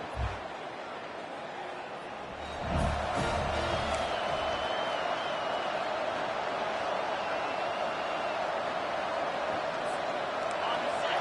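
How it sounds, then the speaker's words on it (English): A stadium crowd in the EA Sports College Football video game swells into a loud, sustained roar after a quieter start and holds at full volume to the end. "This crowd bringing an ear-splitting welcome to their visitors."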